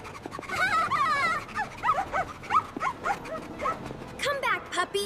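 A puppy whimpers and gives high yips and short barks in a quick, uneven string, close by and fairly loud.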